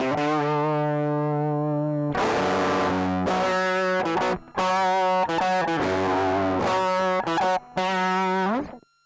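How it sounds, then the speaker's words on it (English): Electric guitar through an amp simulator with a classic fuzz pedal engaged, loud saturated distorted chords played in a series of strummed bursts with short gaps, alone without talk. "If you load up a pedal, like here I have a classic fuzz"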